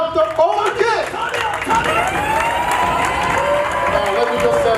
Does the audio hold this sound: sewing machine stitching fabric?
no